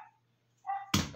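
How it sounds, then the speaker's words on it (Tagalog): A dog barks indoors at home, two short sharp barks close by, the second louder and harsher, after a moment of near silence with a low steady hum underneath. "pasensya na kasi ang gulo yung aso"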